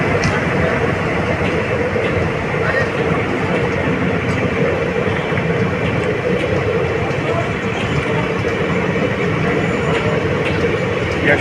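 The Yeshwantpur Lucknow Express, an ICF-coach passenger train, rumbles steadily past at close range, a continuous loud roar of wheels and carriages without letup.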